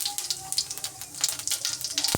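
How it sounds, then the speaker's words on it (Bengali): Cumin seeds sizzle in hot oil in a pan, crackling and popping softly in uneven bursts under quiet background sound. "তার মধ্যে দিয়ে দিলাম কয়টা জিরে ফোড়ন আমি"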